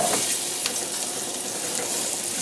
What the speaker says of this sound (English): throw these onions in here and caramelize them just a bit